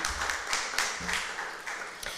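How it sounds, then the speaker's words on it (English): A crowd claps at a press-freedom report launch in Nigeria, a steady, dense patter of many hands that continues loudly for the whole stretch without fading. "Please, can we give him another round of applause"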